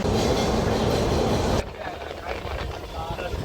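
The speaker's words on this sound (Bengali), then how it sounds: "চলে এসছে মেট্রো এসি মেট্রো" An air-conditioned Kolkata metro train roars loudly as it runs into the station, the heavy rumble dropping abruptly partway through to a quieter hum.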